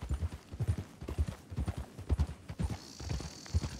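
Horses trotting in the video game RedM, a brisk, steady clip-clop of hooves close by, rhythmic and continuous, with a faint tone entering near the end.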